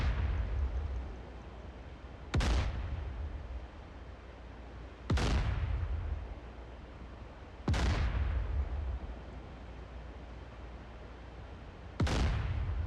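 Gunfire at a target in the DCS World combat simulator: four loud, sharp booming shots spaced a few seconds apart, each trailing off in a rumbling decay over a low background drone.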